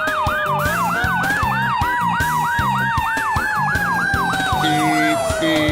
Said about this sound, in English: With bright flashing lights and loud sirens, it's exciting to watch a fire truck whiz past.